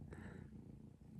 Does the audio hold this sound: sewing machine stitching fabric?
no